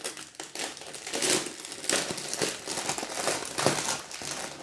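Crinkly plastic packaging of a Stitch stamped cross-stitch kit being opened, with continuous close rustling and crumpling and a few sharper crackles, no voices.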